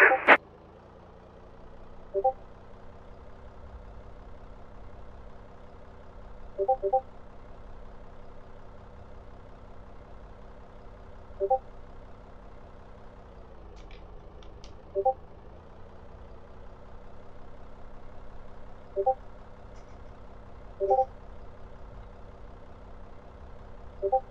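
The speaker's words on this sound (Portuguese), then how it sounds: "Iniciando o pushback e se o senhor quiser já pode acionar os motores." Boeing 737-800 in the X-Plane 11 flight simulator during pushback and engine start, a steady low engine drone with faint whine and a few brief clicks spaced through it, fairly quiet throughout.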